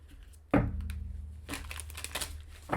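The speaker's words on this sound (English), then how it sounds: "I've got like a couple more shuffles." Papery crinkling and riffling of thick tarot cards being shuffled, a sharp burst followed by steady rustling and a second flurry near the end, fairly close.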